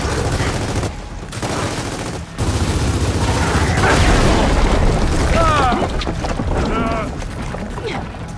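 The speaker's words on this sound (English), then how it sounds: "We gotta get a frag in there!" Gears of War 4 combat at night in a graveyard, with booming blasts and rapid gunfire in dense layered bursts, loud and close, while characters shout over the chaos.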